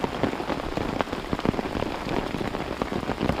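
Rain falling on a tent at a campsite below the Pa Sak dam in Lopburi: a dense, steady, close patter of drops with scattered sharper hits and no voices.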